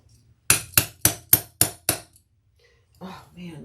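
A hammer striking while a tote bag is being sewn, six sharp, evenly spaced metallic blows in quick succession, close and loud, followed by a pause and then a voice.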